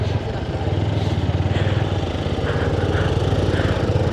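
Motorcycle engine labouring up a rough, rocky mountain track on the way to Manang, a close, loud pulsing thump with rapid firing beats that rise and strain as the bike climbs.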